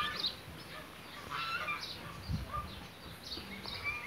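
Geese honk in short, scattered calls near goslings, some near and some farther off, over a steady outdoor background.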